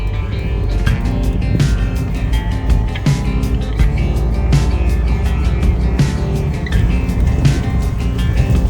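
Vehicle driving along a bumpy sand track on Fraser (K'gari) Island, a loud continuous engine drone inside the cabin with repeated jolts and rattles from the uneven surface.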